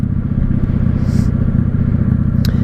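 Rider's-eye view aboard a 1995 Honda Shadow VLX 600 (VT600CD) V-twin cruiser, its engine thumping loud and steady throughout with a dense low rumble, plus a brief clatter near the end.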